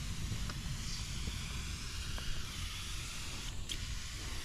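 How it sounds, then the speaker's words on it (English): Super Clean degreaser sprays onto a vehicle's rocker panels in a steady, continuous hiss that lasts several seconds, fairly quiet, with no talking. "I'm gonna spray this here."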